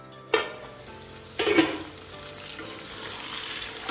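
Pork and potatoes fry in spices as a lid goes onto the pan. Two sharp clanks are followed by a steady, slightly muffled sizzle close by, with no talking.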